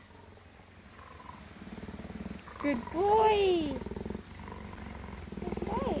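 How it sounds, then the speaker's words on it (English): A cheetah purrs steadily at close range, a low continuous rumble that runs under a person's speech throughout. "Oh, you can still hear that purr."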